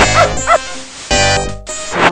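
A couple of quick electronic dog barks over looping synthesized music in the game Beneath a Steel Sky, which cuts in and out.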